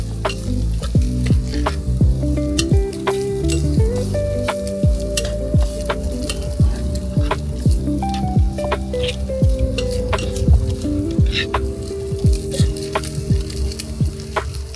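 Vegetable fried rice stirred and fried in a tiny miniature-kitchen pan, a steady loud sizzle with constant quick scraping and clicking strokes of a small utensil.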